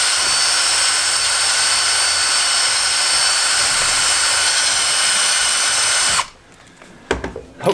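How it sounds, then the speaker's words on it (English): A loud, steady high-pitched drill whine from a 5mm bit widening a metal slot on a Magura HS33 brake runs continuously for about six seconds, then cuts off abruptly, leaving a few faint clicks and knocks. "just use a drill, 5mm drill bit. You can kind of go round the slot"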